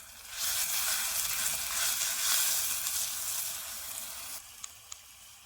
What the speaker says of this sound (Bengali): লঙ্কার সাথে আদা রসুন বাটাটাকে ভালোভাবে কষাতে হবে